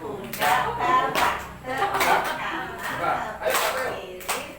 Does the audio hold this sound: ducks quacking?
no